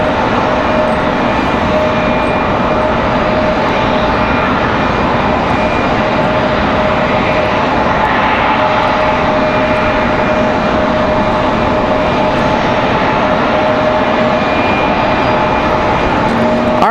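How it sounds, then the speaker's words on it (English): A United Airlines jet bound for Washington Dulles takes off at Raleigh-Durham International in a crosswind, its engines giving a loud, steady roar that fills the whole stretch without a break, with no voices. "All right, United off to Washington Dulles."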